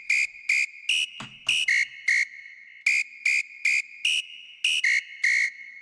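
A bright, high whistle sample in a hard bounce trance track repeats in short rhythmic bursts, some pitched slightly higher, in a tight electronic pattern with a brief lower tone near the start.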